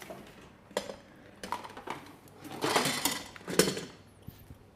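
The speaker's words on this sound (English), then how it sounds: "Toss a few things in the sink" Dishes, a chopping board and pots clattering into a kitchen sink during cooking, a series of close, sharp clanks and knocks bunched into several bursts, the loudest near the end.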